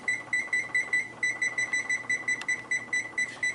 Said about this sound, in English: we'll set the timer for 26 minutes